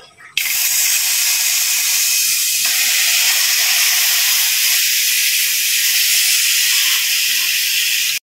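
Ingredients sizzling in a heated kawali while sautéing sayote, a loud steady close hiss that starts abruptly and holds evenly throughout.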